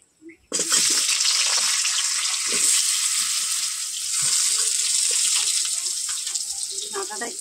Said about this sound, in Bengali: এবার আলু আর ডাঁটাটা ভেজে নেব।